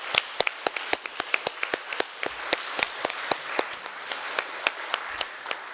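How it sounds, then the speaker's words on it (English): Sparse, distinct claps ring out for the panelists in a congress auditorium, a few hands beating in a fairly regular rhythm, sharp and close, with no voices over them. "I think we should have a new round of applause for our panelists"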